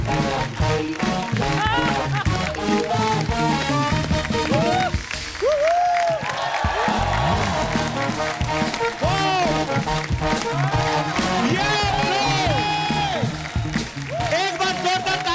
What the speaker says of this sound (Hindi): एक बार जोरदार तालियां दिलजीत साहब के लिए और कृति के लिए।